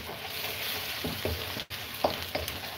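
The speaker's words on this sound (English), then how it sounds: "Now do stir your onions." Onions frying in a pan hiss steadily while a utensil stirs them, scraping and knocking in a few distinct strokes near the end, after a brief dropout.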